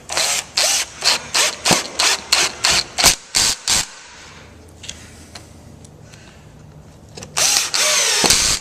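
A power drill drives a screw into wood while making a cutting box: a quick series of short bursts, then a quiet pause, then one longer whirring run, all close and loud.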